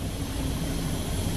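A federal police rescue helicopter flying back toward the shore gives a brief, steady engine and rotor drone at moderate loudness, heard alone.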